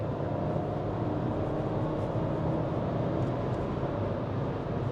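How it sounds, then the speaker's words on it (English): A 2012 VW Jetta's engine hums steadily from inside the cabin after a downshift to fourth gear, a constant low drone with road rumble and no talking over it. "and now let's hear the engine."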